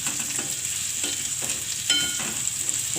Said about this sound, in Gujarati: હવે આપણે એમાં વટાણા નાખી દેવું, અને આપણે ઘડીક વાર તેલમાં સડવા દેવાના છે.